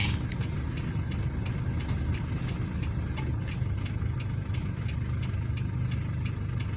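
A farm tractor's engine rumbles on a road just ahead, a low, steady chugging drone that continues without pause and is heard from a following vehicle.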